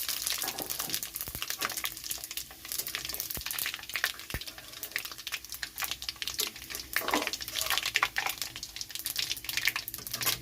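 Panch phoron spices crackle and sizzle in hot oil in a continuous dense hiss, with occasional sharper pops and taps close by. The oil already holds dried red chillies and bay leaves.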